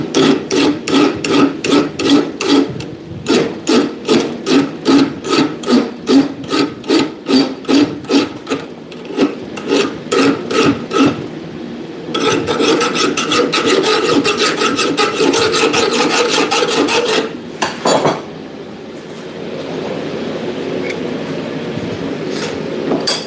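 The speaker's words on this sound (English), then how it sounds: "Rasp is getting blunter by the second." Rasp filing a blacksmith's knife in a smithy, loud close rhythmic strokes in long regular runs, then a quicker stretch of dense scraping before it stops.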